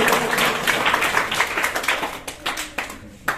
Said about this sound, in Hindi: इनके लिए जोरदार तालियां हो जाइए।